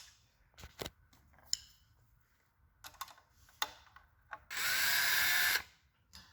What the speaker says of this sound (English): start with a really thin drill bit to drill the first hole